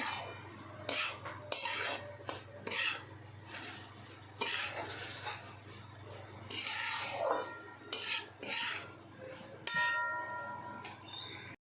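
Semolina roasting in a pan while being stirred, with repeated scraping and clinking of a metal spoon against the pan in an irregular rhythm, fairly close and moderately loud.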